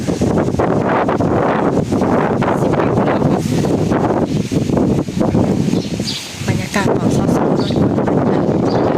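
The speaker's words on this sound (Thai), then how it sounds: "สังเกตบังลม ลมแบบโคตรแห้งเลย" Dry wind gusting outdoors at a temple in Thailand, loud rushing and buffeting against the microphone with rustling, steady throughout with a brief lull, people talking faintly beneath.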